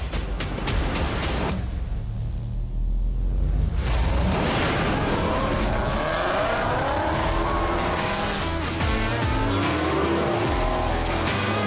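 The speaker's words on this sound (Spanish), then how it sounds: "Chillando goma, Luis." A car revving hard with loud tire squeal and skidding during a car competition event, sustained engine roar and screeching rubber filling the whole stretch without a break.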